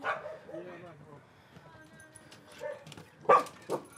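Dogs near a porch give a few short barks and yips, mostly under and between people talking, with a couple of louder bursts near the end.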